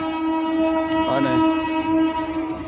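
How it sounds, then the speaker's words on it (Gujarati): A train at Makarpura railway station in Vadodara, Gujarat, gives a long, steady horn blast, loud and close, with a brief voice in the middle. "આ છે મક્કરપુરા રેલવે સ્ટેશન"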